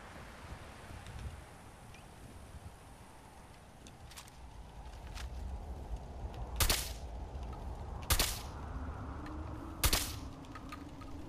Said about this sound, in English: Someone is definitely shooting at me.